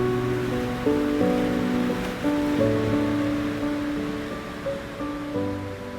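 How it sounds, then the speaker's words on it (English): Ocean waves wash in a steady, rolling hiss beneath soft sustained musical tones in a calm meditation soundscape, with no voices. "listen to the sound of waves"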